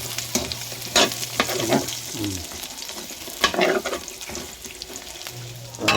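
Garlic and ginger frying in rendered pork fat for a wood-fired pork adobo, a steady close sizzle broken by scraping stirs, with brief speech over it.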